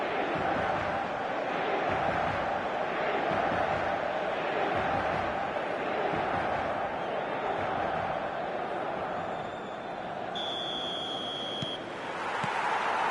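A large stadium crowd on match day before a City fixture, a broad continuous roar of massed voices with a brief electronic tone near the end.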